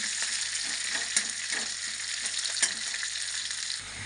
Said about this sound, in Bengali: তেল গরম হয়ে গেছে পেঁয়াজটা দিয়ে দেবো এখন পেঁয়াজটা একটু লাল লাল করে বাঁচবো